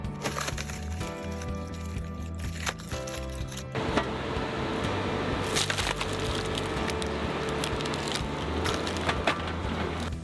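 A skid steer fitted with a 6-way wedge saw splits logs, with loud crunching, cracking wood and a heavy machine hum building into dense, sustained splintering noise.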